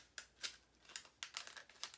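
Cricut Infusible Ink transfer sheet being peeled away from pumpkin cutouts, producing a quiet series of sharp crinkling crackles and papery snaps, close up and irregular, with no talk.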